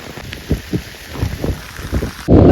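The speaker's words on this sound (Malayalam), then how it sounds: "നല്ല മഴയാണ്, അതുപോലെ കാറ്റും ഉണ്ടായിരുന്നു." Rain falls heavily inside a forest with some wind, heard as uneven patters and thumps close by, ending in a sudden louder rush of rain.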